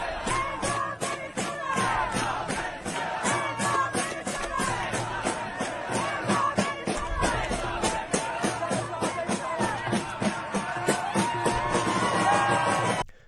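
A protest crowd cheers and chants together in a rally aimed at the president over Venezuela, a dense, steady wall of many voices with rhythmic shouted bursts, loud and continuous throughout.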